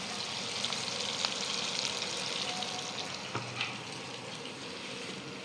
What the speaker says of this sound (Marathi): तर आपण ह्याच्यामध्ये मसाले टाकूया